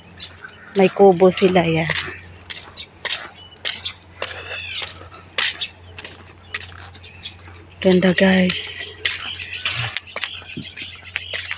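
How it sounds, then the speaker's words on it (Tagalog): Small birds chirp and twitter in quick, busy bursts at a resort in the morning, close and lively, with someone speaking briefly in Filipino among the calls. "Maririnig mo mga tunog ng ibon. Ayun o, ibon guys. Maliliit na ibon."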